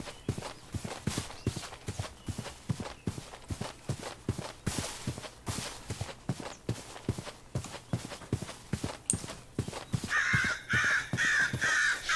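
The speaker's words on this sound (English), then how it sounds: "Oh, the crows are loud." Crows caw over and over in Minecraft (MC Eternal modpack) while steady, rhythmic footsteps or hoofbeats thud along underneath the whole time.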